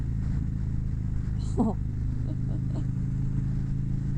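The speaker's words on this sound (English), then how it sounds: "the longer I have this Dr. Jekyll, Mr. Hyde exhaust on my motorcycle, the better it sounds" A motorcycle with a Dr. Jekyll & Mr. Hyde exhaust rumbles steadily with a deep, even drone throughout, while a voice briefly speaks over it.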